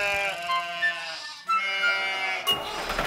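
Sheep bleating woven into a French children's farm song, several wavering bleats sounding over bright music with no voice talking during them.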